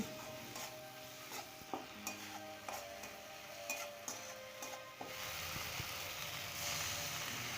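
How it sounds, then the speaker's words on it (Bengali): Salt, turmeric and chopped tomato sautéing in a pan for a brinjal and egg dish, with quiet rhythmic spatula scrapes over a soft sizzle that swells into a steadier hiss toward the end. "এবার দিয়ে দেব পরিমাণ মতো লবণ, হলুদ, টমেটো কুচি দিয়ে সব কিছু ভালোভাবে কষিয়ে নেব।"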